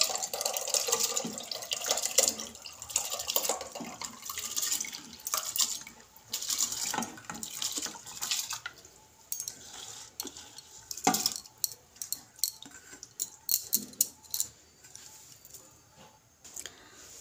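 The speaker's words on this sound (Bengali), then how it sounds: "এবার আমি হাঁড়িতে ধুয়ে রাখা চালটা দিয়ে দেব।" Washed rice is tipped into a pot of hot water spiced with cardamom, cinnamon and cloves for mutton biryani, giving a wet splash and stirring followed by scattered clinks and taps of utensils against the pot, close and moderately loud, with no talking.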